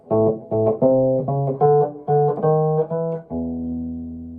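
Short early electric blues guitar phrase: a walk-up to a turnaround, rhythmic plucked notes stepping upward in bursts, then a final sustained low chord ringing out, played alone.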